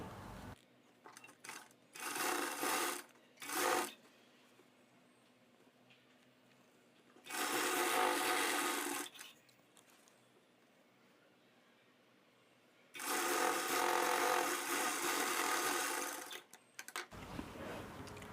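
A sewing machine stitches a blouse side seam in three separate bursts of steady whirring, close and moderately loud, with quiet handling and fabric rustle in the pauses between runs.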